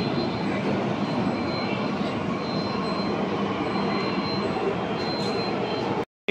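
A Mumbai Aqua Line 3 underground metro train hums and rumbles steadily with a faint high wheel squeal, heard from inside the station until an abrupt cutoff near the end.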